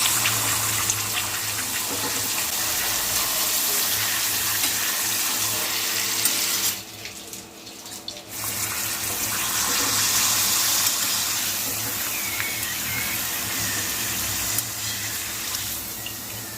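Dried urad dal papad fries in hot oil with a steady hiss and crackle, broad and continuous, briefly dipping quieter partway through before resuming.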